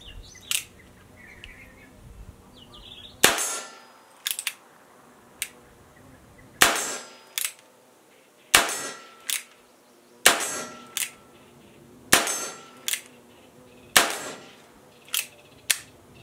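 A Chiappa SAA 1873 single-action revolver fires .22 short rounds outdoors: a string of sharp, loud cracks spaced about a second apart, each with a brief ringing tail, and birds chirp faintly before the first shot.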